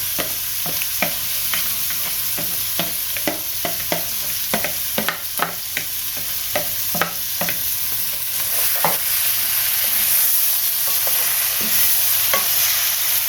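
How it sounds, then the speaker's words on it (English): Shrimp and lobster sizzle loudly in a hot pot of curry, with a constant frying hiss broken by sharp clicks and scrapes as they are stirred. "we're adding this into our pot now. You guys can hear that sizzle"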